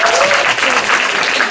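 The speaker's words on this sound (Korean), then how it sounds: "큰 박수 주시고" Loud, dense applause from an audience at a business presentation, continuous through the brief moment.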